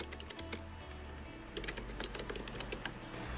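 Fingers tap out a string of quick, soft keystrokes on a computer keyboard while entering a title in a spreadsheet, irregular clicks in short bursts under a low hum, no talk.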